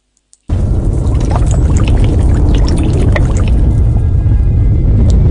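A child plunges into water with a heavy splash, followed by continuous loud churning and sloshing of water for several seconds with no talk.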